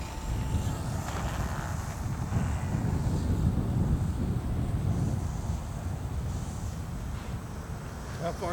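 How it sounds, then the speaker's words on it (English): Steady wind rushes and buffets across the microphone at an open RC airplane flying field, a continuous loud low roar lasting throughout with no clear engine or voice on top. "Man, that wind right now though."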